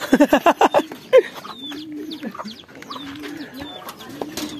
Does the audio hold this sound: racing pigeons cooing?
yes